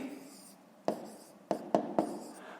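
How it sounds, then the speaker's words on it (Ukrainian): A pen writes by hand during a Grade 5 maths exercise, making soft scratching strokes with several sharp taps as it touches the paper, over a quiet background. "Пишемо."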